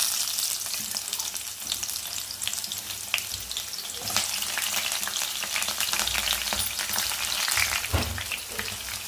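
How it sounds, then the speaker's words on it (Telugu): Onion, green chilli and ginger garlic paste sizzle steadily in hot oil, a dense continuous crackle with occasional stirring clatters, close and fairly loud with no talk. "ఆయిల్ అయితే బాగా వేడైంది కదా, ఉల్లిపాయ, పచ్చిమిర్చి, అల్లం వెల్లుల్లి పేస్ట్ వేసుకుందాం."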